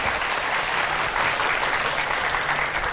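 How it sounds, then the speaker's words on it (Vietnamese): Steady applause from a crowd at a wedding, dense, continuous clapping filling the whole moment without a break. "Một tràng pháo tay cho hai chú rể."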